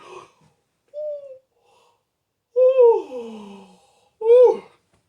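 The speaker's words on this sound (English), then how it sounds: "I'm just going to yawn." A person yawns aloud, a long breathy vocal sigh that slides downward in pitch. It comes after a couple of small voiced sounds and is followed by one more short breathy vocal burst, all close and clear against silence.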